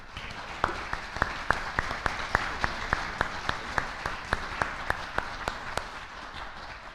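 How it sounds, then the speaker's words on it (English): Applause at a school board meeting, mostly a run of evenly spaced, distinct loud claps from nearby hands over a softer background patter, lasting several seconds. "Could you join me and give them a big round of applause, please?"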